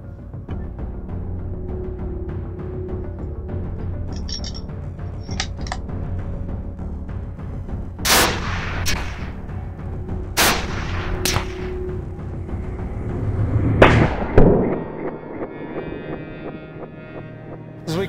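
Gunshots ring out at a test range, fired at a 12-inch tree trunk and a shield using steel core and lead core bullets; several loud, sharp cracks stand apart over a steady low rumble.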